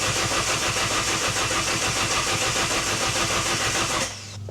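Alfa Romeo Giulietta Cloverleaf engine on a freshly charged battery turns over and runs, giving a loud, steady mechanical throb for about four seconds before it drops away abruptly.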